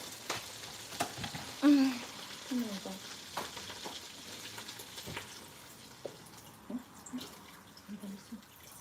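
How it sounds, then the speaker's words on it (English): Quiet sizzling and frying as water is added to pepper in a hot pan for Ijebu ikokore, with soft bubbling, spattering and occasional clinks of stirring. "So I'm going to add some water to the pepper now."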